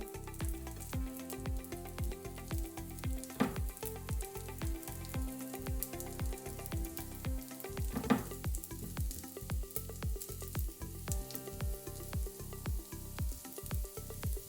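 Dough balls sizzling in a heated, greased nut-shaped mold, a steady dense frying crackle with rhythmic pulsing pops throughout, close and continuous, no voices.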